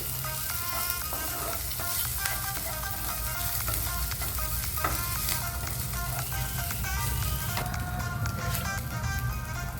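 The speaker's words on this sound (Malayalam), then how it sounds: "ഒരു രണ്ട് സ്പൂൺ നാളികേരം ചിരവിയത് ഇട്ട് കൊടുക്കാം ഇനി അതും നന്നായിട്ട് ഇളക്കി" Grated coconut sizzles and is stirred in a hot pan while cooking a sweet filling for a snack, a steady close frying hiss with scraping stirs throughout and no talk.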